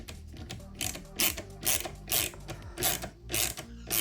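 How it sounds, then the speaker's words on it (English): A ratchet screwdriver drives screws into plastic parts of a Toyota Supra MK4 model car kit, giving a quick series of crisp ratcheting clicks in short repeated bursts, close and fairly quiet, with no speech. "And the ratchet screwdriver, really easy."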